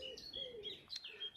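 Small birds chirp in short, bright tweets, several overlapping calls at moderate distance, with no talk.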